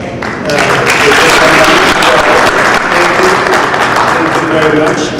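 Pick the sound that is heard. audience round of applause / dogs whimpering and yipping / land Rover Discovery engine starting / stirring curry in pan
audience round of applause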